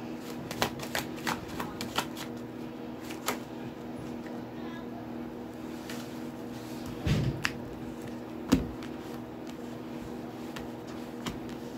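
Tarot cards are shuffled in quiet, repeated riffles and taps, soft and close, with a couple of louder shuffles later over a low, steady background hum.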